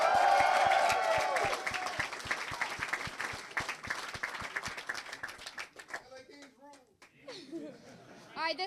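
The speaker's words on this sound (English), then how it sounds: "Give it up for Dennis Zen." Audience applause and cheering at an AMC Movie News celebration event, loud clapping from a crowd for the first two seconds, then steady scattered clapping that thins out, with whoops and voices rising near the end.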